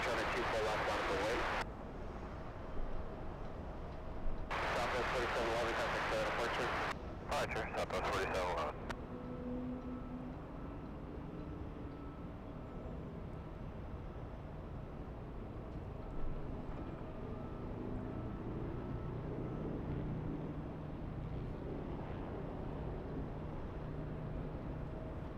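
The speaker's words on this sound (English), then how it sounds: "We have the Delta lining up. Delta 1647 flying to Salt Lake City. This is an Airbus A321neo." A Delta Airbus A321neo lines up on the runway, a low steady engine drone and rumble heard from a distance under ongoing talk and brief bursts of radio chatter.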